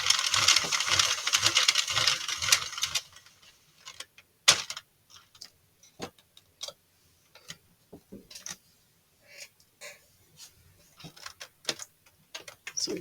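Cranking a Sentro 48 pin circular knitting machine: a dense, rapid mechanical clatter runs for about three seconds, then gives way to scattered separate clicks and taps with short quiet gaps between them.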